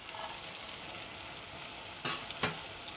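Bombay duck fish is fried with tomatoes and mixed, a soft steady sizzle with a couple of quick scraping stirs near the end, fairly faint.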